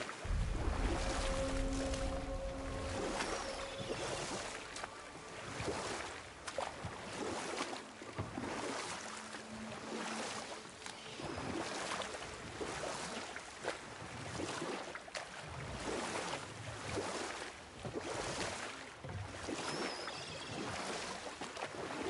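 Water swashes and splashes continuously around a moving boat in the video game God of War, with rhythmic surges like paddling and waves, steady and fairly close.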